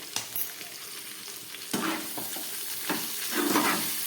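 Vegetables fry in a pan with tomato pieces, salt and turmeric for a fish curry. A soft hiss runs under a few bursts of scraping and stirring, close and fairly loud.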